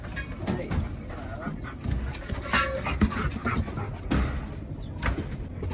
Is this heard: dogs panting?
yes